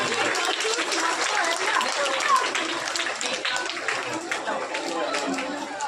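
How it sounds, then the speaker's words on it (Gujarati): A crowd at a village primary school event claps together for young schoolchildren, a dense, sustained wash of applause with chatter and children's voices mixed in throughout. "તાળીઓનો ગગડા તાળીઓ આપીશું ભાઈ"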